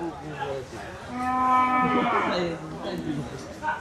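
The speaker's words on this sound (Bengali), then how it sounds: "এই যে বড় বড় গরুগুলো আসছে" Cattle moo loudly at a large traditional cow and goat market in Kedarpur, near Kamar Gaon bazaar. One long, drawn-out bellow rises and falls in the middle against a murmur of background crowd noise.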